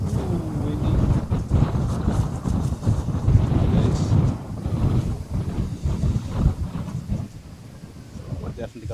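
Heavy wind buffeting a microphone at Schiphol Amsterdam Airport during crosswind landings, a continuous low rumbling roar with gusty surges throughout.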